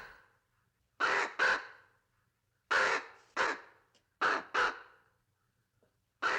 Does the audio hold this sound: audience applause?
no